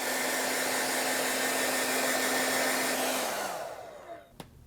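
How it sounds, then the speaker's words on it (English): Hair dryer blowing steadily to dry paint on a board, a loud continuous whoosh with a fixed motor hum that winds down and switches off near the end. "I have a handy dandy blow dryer. So I'm just gonna give this a quick blow dry"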